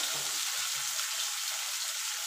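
Potatoes fry in hot oil with a dense, steady crackling hiss close by, and a few faint low knocks from the pan early on.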